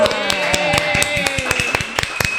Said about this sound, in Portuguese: Ó, essas palmas saíram animadas, minha gente